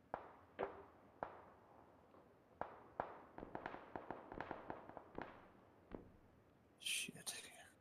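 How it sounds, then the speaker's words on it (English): Faint, distant gunshots off to the west in an online shooter game, scattered sharp cracks spaced irregularly, some in quick bursts, with a brief hiss of noise near the end. "I'm hearing shots directly west right now"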